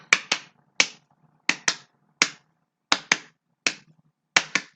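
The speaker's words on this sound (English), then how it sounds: "Double claps." Sharp paired hand claps ring out in quick double bursts, about six pairs spaced with short silent gaps, close and crisp with nothing else heard.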